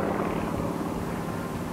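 Aerobatic aircraft, a trainer built in the Soviet Union, droning steadily overhead at an air show at Cavo on Elba, a continuous engine roar with no breaks and no voices.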